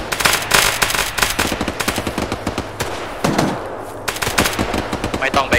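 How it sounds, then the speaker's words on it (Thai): Loud, close machine-gun fire from ArmA 3 during a convoy transport operation, rapid repeated bursts rattling through most of the stretch with brief pauses, mixed with distant shots. "ได้ยินปืนจากทางเขานะ"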